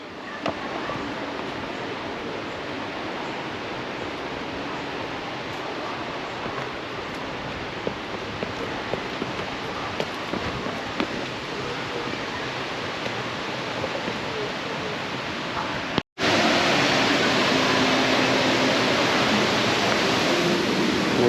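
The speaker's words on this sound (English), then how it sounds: "I can hear the waterfall." Datanla Waterfall pours in a loud, steady broadband rush of falling water, unbroken and close, growing louder near the end after a brief cut.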